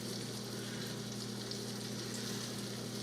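Country fried steak frying in an old pan, a soft, even, continuous sizzle with a low steady hum underneath, faint and without voices.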